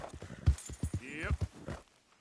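Horse hooves clip-clopping in Red Dead Redemption 2, a quick run of close, rhythmic hoof strikes lasting about two seconds, with a voice calling over them.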